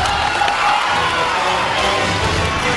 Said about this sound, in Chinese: 来点掌声，我就不信整不起来